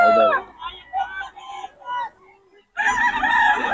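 Young rooster stags crow at a gamefowl seller's in Bocaue, with loud, close cock-a-doodle calls, a pause, then another strong crow, among clucks and nearby voices.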